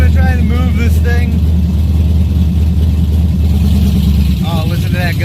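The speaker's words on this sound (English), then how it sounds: "Oh, listen to that go into gear." A car engine drones loudly nearby with a lumpy, throbbing idle and revs rising as it goes into gear, while someone talks excitedly over it.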